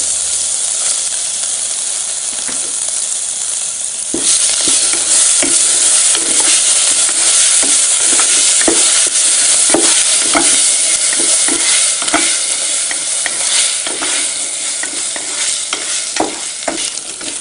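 Loud, continuous sizzling of spices and grated ginger frying in a pan, with a steady hiss and scattered pops and stirring scrapes, no voices.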